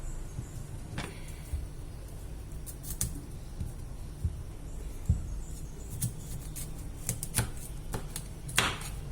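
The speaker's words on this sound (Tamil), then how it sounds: "இந்த தோலை எடுத்துட்டு கட் பண்ணிக்கணுங்க" Quiet, irregular knife taps and crisp cutting sounds on a board as broccoli is cut, scattered sharp ticks against a steady low background hum.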